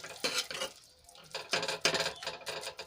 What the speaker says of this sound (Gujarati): આ રીતે થોડાક ચમચાની મદદથી પ્રેસ કરીને થોડાક મેશ કરી લેવાના